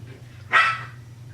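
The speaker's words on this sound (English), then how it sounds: "Sorry about the dogs in the background." A single short dog bark sounds from the background over a steady low hum, moderately loud and set back from the listener.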